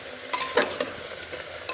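Papaya and potato curry cooking in a pan, with a quiet background simmer and sizzle broken by a few brief, close stirring and scraping clatters.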